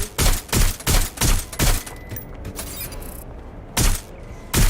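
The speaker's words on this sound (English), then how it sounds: "Watch out! Shots fired!" Gunfire in Watch Dogs: Legion: rapid bursts of loud shots in a quick rhythmic string, a short lull with scattered clatter and rattling, then two more sharp bursts, close and without speech.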